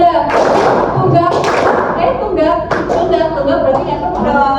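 Students in a high school classroom clap on cue, single and double claps, sharp percussive bursts scattered over a steady backdrop of a teacher calling out instructions.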